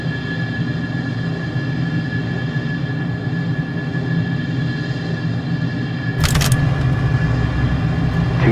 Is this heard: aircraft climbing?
yes